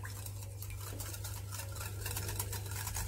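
Ingredients for a semolina maamoul-style sweet are stirred together in a bowl, with vanilla added. A utensil scrapes the bowl in quick, steady, repeated strokes, close and fairly quiet, over a low constant hum.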